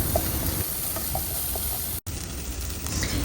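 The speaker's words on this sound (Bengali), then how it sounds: "এখন এই সামান্য মশলাটুকুকে খুব ভালোভাবে কষিয়ে নেব।" Onion-coconut spice paste with turmeric and chili frying in a pan, a steady close sizzle and hiss with soft stirring scrapes, broken by a brief silent gap midway.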